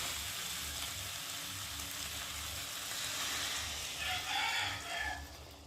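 Water hitting a hot pan of cauliflower curry (phulkopir dalna) with browned spices, giving a steady close sizzle that swells into a brighter hiss near the end, alone without talk.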